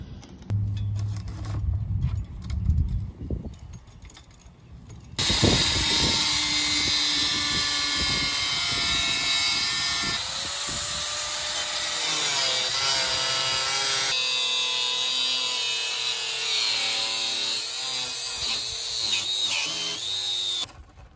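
Steel angle iron being cut by a power tool: a quieter stretch of knocks and handling gives way to a loud, steady, grinding whine that holds for about sixteen seconds, shifting in pitch as the blade works through the metal.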